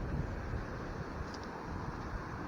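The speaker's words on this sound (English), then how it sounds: "And still very windy." Strong wind blows in the aftermath of a storm in northwest Florida in January 2024, a steady, loud roar with low rumbling gusts buffeting the microphone throughout, with no clear voices.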